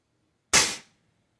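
A single sharp gunshot at an outdoor shooting range, a loud close crack with a short decaying tail, alone in otherwise quiet surroundings.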